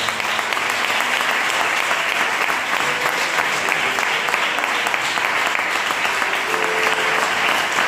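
Loud, steady applause from a large church congregation, dense continuous clapping that fills the whole stretch without letting up.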